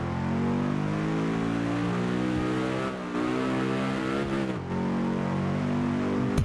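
An Aston Martin V8 Vantage sports car in Test Drive Unlimited 2 revs loudly, its engine note climbing through rising harmonics, dipping briefly twice as it shifts, then pulling hard again.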